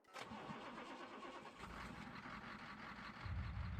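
A truck engine in the video game Farming Simulator 22 cranks and catches, then settles into a steady, rumbling idle that grows slightly louder toward the end, with no talking.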